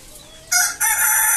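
Chickens crow and cluck loudly and close by in a short burst, at a poultry vaccination against Ranikhet disease.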